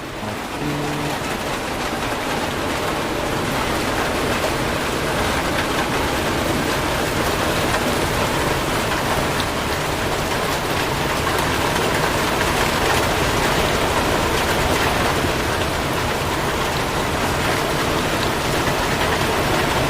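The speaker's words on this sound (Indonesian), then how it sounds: "Di sini hujan gede bosku." Heavy rain pours down steadily for the whole stretch, a loud, dense and unbroken hiss of drops on surfaces close by.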